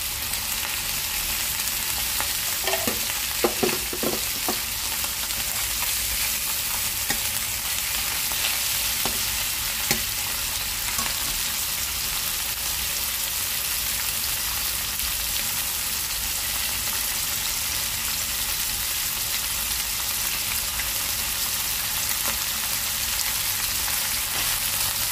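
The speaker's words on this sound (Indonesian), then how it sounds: "Ini gorengnya setengah matang lagi ini." Fish frying in hot oil for Hong Kong style red fish soup: a steady, dense sizzle runs for the whole stretch with a few faint clinks near the start and no one speaking.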